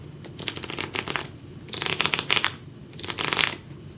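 Playing cards flipped and riffled in quick bursts of crisp papery flutters, three distinct clusters close up with short pauses between, no talking.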